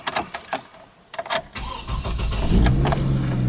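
A few clicks and short cranking bursts, then a GMC Trailblazer engine catches and settles into a steady, rumbling idle close by.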